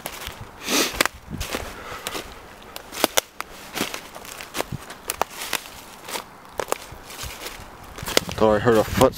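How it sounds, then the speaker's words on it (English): Footsteps crunch nearby in a series of sharp, uneven steps, with scattered crackles between them and a brief burst of louder activity near the end. "Thought I heard a footstep or something."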